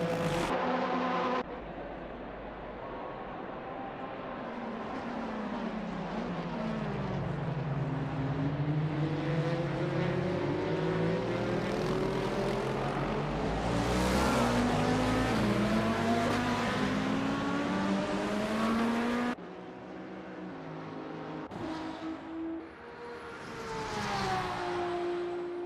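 A McLaren GT3 race car's engine, in a Daytona 24-hour racing game, howls continuously and loudly, its pitch climbing and dropping through the gears.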